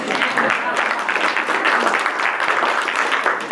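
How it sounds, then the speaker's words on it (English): Audience applause after a poetry reading of Ibn Hazm's verse, a steady wash of clapping that holds at an even, fairly loud level throughout. "Yeah, you can clap for that poem."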